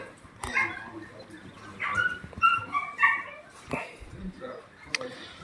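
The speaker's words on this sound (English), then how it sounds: "Crikey, that little dog." A little dog whimpers and yips in short, high cries scattered across several seconds, close by and fairly quiet, with a voice talking in between.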